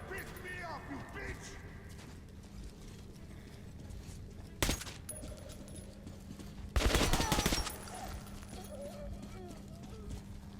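Gunfire in Metro Last Light rings out in two loud bursts, a short one and then a longer rattling volley, over a low steady hum of background ambience.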